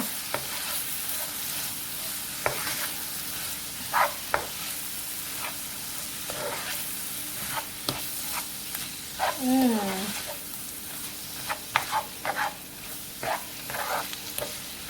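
Seafood dressing is stirred in a hot pan with garlic and pepper, giving a steady sizzle broken by irregular scraping strokes of a spoon against the pan, close and moderately loud, with no talking.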